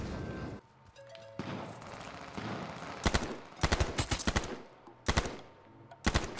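Gunfire from a gun in the PS4 game H1Z1 comes in several loud bursts of rapid shots, separated by quieter stretches of background game ambience.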